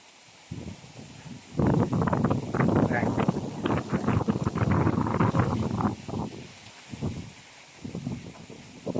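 Strong wind buffets the microphone outdoors beside a fish pond on a morning farm, roaring in heavy gusts that come and go, with quieter lulls between them.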